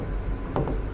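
Chalk or marker scratches across a board as the word for a female reproductive organ is written during a teaching lesson, giving a few short close scraping strokes over a low room background.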